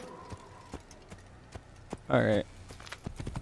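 Horse hooves clip-clop in the Assassin's Creed video game, a soft steady stepping under game ambience, with a brief louder burst partway through and a short spoken word from a player.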